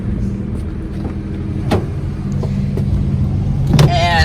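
An EK Honda Civic hatchback snow beater with a new wheel bearing pulls away on a test drive, its engine a steady close hum with a few clicks and thumps from inside the car.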